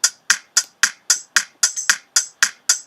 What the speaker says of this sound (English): Hi-hat